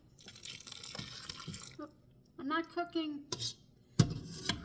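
Cooked pasta being drained from a pot, with water splashing and pouring plus clanks of the pot and utensils, loud in short bursts with brief pauses between.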